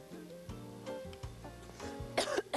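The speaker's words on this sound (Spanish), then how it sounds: "Voy a toser, ya tosí." A single cough rings out close and abrupt near the end, following a quiet stretch of faint background music.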